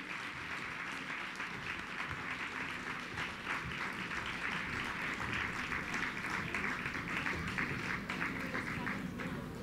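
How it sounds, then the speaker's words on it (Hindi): An audience at a Hindi comic poetry gathering applauds to send off a departing poet, a steady round of clapping that holds at even strength throughout. "हम लोग तालियों के साथ उन्हें विदा करें।"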